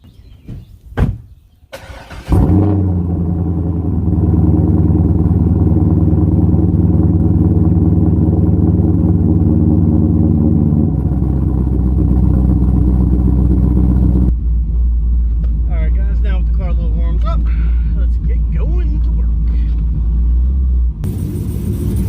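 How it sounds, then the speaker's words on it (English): A Corvette's engine cold starts after a few clicks, catching into a loud, deep rumbling idle that holds steady, then drops to a lower, smoother idle partway through, with faint squeaks over the top. "Now let's do a cold start."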